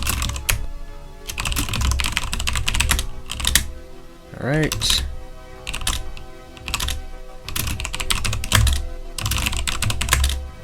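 Rapid clattering keystrokes come in bursts on a computer keyboard with one key popped off, close and clear, pausing briefly while someone talks between the runs of typing.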